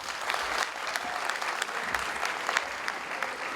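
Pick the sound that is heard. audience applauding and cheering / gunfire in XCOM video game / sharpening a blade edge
audience applauding and cheering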